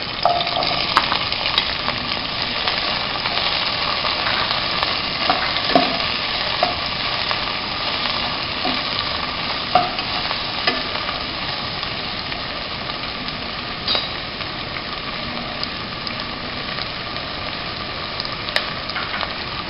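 Sliced onions and curry leaves sauté in a pan for Kerala-style fish molee, giving a steady, close frying sizzle with occasional stirring scrapes throughout, no voices.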